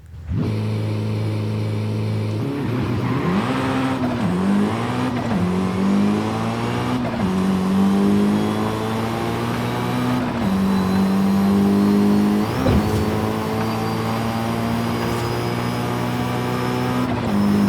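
A 720 hp Mitsubishi Evo III race car engine in the video game Forza Horizon 5 revs hard and climbs through repeated gear shifts up to sixth, its pitch rising, dipping and rising again, loud and continuous throughout.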